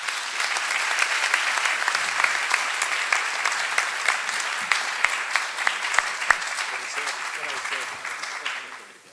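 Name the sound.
audience applause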